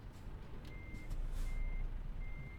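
A truck in Euro Truck Simulator 2 backs up at night in Spain, its reversing alarm giving three steady, evenly spaced beeps over a low engine rumble and some air hiss, with no talk.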